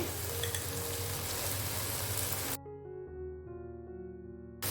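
Green chillies and ginger-garlic paste sauté in hot oil with a steady, close sizzle for about half the time. The frying then cuts off abruptly, giving way to sustained tonal sound.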